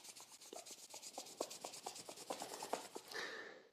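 Palms rubbed together briskly during Taoist yoga practice give a quiet, rhythmic dry rasp, about a dozen even strokes, close up and alone, ending in a longer slide.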